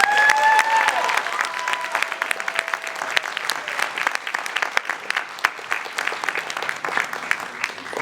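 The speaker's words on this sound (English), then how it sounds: "Let's give them a round of applause." A talent show audience applauds the judges, starting with a full round of clapping and slowly thinning to scattered, sharper individual claps; a brief voice sounds at the start.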